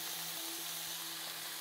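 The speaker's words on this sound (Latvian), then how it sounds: "Un kamēr gaļa mums cepās" Ground meat for tacos frying in a pan with taco seasoning and sauce, giving a steady, close sizzle with no talking.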